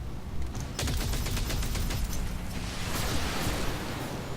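Mech weapons firing in the video game Battletech, a dense rumbling barrage of rapid overlapping shots and blasts, loud and sustained with no break.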